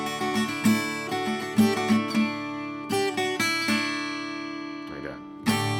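An acoustic guitar plays a chord passage with several plucked and strummed chords that ring out, followed by a pause and a final strum. The playing is close and moderately quiet.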